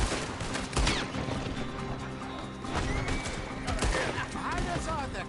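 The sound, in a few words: gunfire in the video game Red Dead Redemption 2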